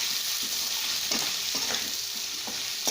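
Dried fish frying in oil with turmeric and rock salt, a steady hiss of sizzling with repeated scraping and clinking strokes of a spoon stirring through the pan.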